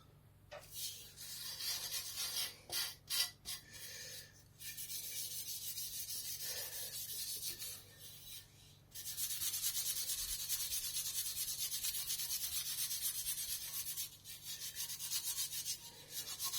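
Hand polishing of Delkevic exhaust pipes on a VFR800 motorcycle by elbow grease alone: steady broadband cloth rubbing strokes, choppy at first then continuous and fairly close, with no talk.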